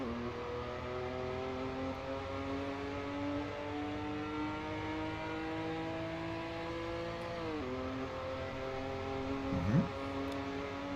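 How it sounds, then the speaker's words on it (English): The Lotus Emira's engine in the Assetto Corsa EVO racing game holds a steady drone for several seconds, then revs up, shifts gear and climbs again. "Let's listen to the engine sound."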